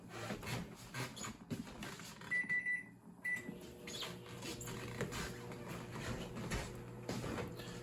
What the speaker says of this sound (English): I'm sure you can hear my microwave going in the background.